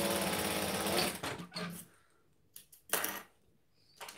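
A sewing machine runs a quarter-inch seam on a gathered skirt in one loud, steady burst, then stops, followed by a few light clinks and taps.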